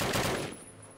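Rapid gunfire bursts from a Call of Duty match, loud and dense in the first half before thinning into quieter fading shots.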